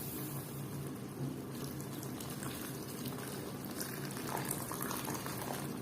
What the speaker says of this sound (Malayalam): അപ്പം നമുക്കിത് വേവാൻ വേണ്ടി കുറച്ച് വെള്ളം ഒഴിച്ചെടുക്കാം